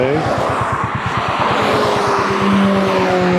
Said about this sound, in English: Porsche Boxer and a Honda S2000, both with their tops down. They're going to race up over there.